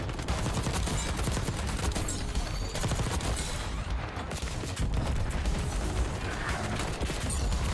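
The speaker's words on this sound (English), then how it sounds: "this gun is a freaking single fire" Rapid gunfire from a single-fire weapon in the video game Black Ops 6, heard as dense, loud, sustained volleys of shots with mechanical clatter that continue almost without a break for several seconds.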